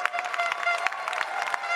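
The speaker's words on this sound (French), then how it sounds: "Faire un tonnerre d'applaudissements une dernière fois pour nos candidats, pour tous les membres du jury." Scattered applause for pastry competition contestants and jury members at a prize ceremony, with a steady musical tone running underneath the clapping.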